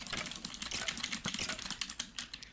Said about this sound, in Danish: I kan høre mit tastatur så meget